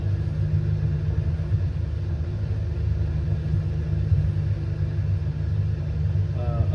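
A customized Haterbuilt truck in American Truck Simulator rolls downhill through Colorado mountains in the rain, its engine a steady low rumble with a constant hiss of rain, no voices over it.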